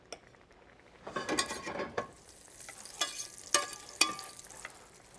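Oil and butter heating in a pan as food goes in, with a low sizzle broken by clattering utensil and pan knocks in irregular bursts, fairly quiet and near, no speech.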